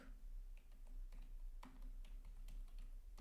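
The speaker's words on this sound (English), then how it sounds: "sorry for the typing, my keyboard is not working well" Quiet typing on a faulty computer keyboard, scattered clicks and taps in uneven runs against a steady low hum, close and soft with no talking.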